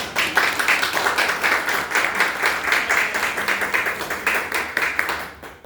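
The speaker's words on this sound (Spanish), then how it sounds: "Les damos un fuerte aplauso." An audience claps for third-year students after their school presentation, a close, fairly loud patter of many hands in a steady rhythmic pulse that carries on until the end.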